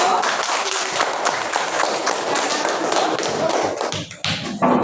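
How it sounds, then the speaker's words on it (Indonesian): A class claps for a student group after their mind-map presentation, brisk, close hand clapping with thumps and shuffling, dipping briefly before a final sharp burst. "Beri tepuk tangan untuk kelompok 1."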